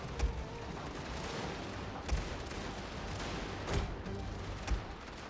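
Battle in a strategy game set in the Dragon Empire, with units firing in a continuous crackling fusillade, several heavier booming volleys punctuating the dense, steady din of distant gunfire.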